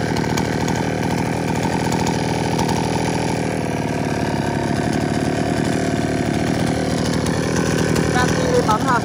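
A Shindaiwa 360 chainsaw with a 40 mm cylinder runs steadily close by, a loud, even engine drone holding one pitch throughout, with no voices over it.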